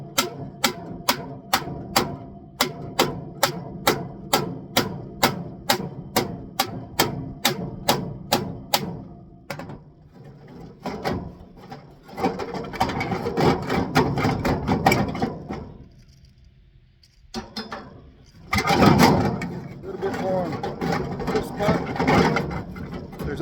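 A hammer and crowbar work on the breather pipe of a Ford 9N tractor, starting with a long run of loud, evenly spaced metallic strikes, then shifting to irregular scraping, prying clanks and rustling, with a brief quiet gap near the end.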